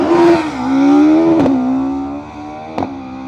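A turbocharged sports car engine revs high and drones loudly, pitch rising and falling as it pulls away and fades, with a couple of sharp pops along the way.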